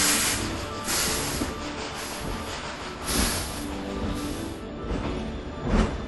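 A steam locomotive hisses and vents steam in a steady, broad rush, with several louder surges as bursts of steam are released, fairly close and with no talk over it.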